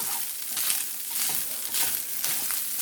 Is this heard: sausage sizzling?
yes